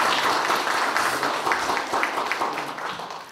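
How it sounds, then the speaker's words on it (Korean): An audience at an academic ceremony for a Korean overseas-community organization applauds a visiting National Assembly member, giving continuous crowd clapping with slight rhythmic pulsing that gradually tapers off. "다시 한번 큰 박수 부탁드리겠습니다"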